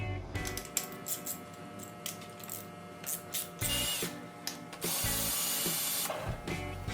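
Hand tools work on the rear end of a 1968 Dodge Charger to pull the third member, with rapid ratchet clicks, metallic clinks and scrapes in irregular bursts, close and moderately quiet, without speech.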